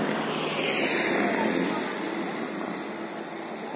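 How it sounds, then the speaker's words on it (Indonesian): A Citilink airliner sits at Kediri airport just after landing, its engines giving off a steady broad roar that fades slightly toward the end, heard at moderate distance with no clear speech. "bandara Kediri saat pesawat CityLink sudah landing"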